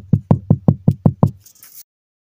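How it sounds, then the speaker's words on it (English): Seven firm, evenly spaced knocks land on a door in quick succession, followed by a brief faint rustle and then silence. "What is even that knocking from the door from?"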